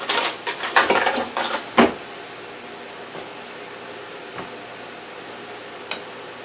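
A butter knife and other cutlery clatter close by in a kitchen, with a burst of metallic rattling and clinks at first, then a few isolated taps over a low background hum.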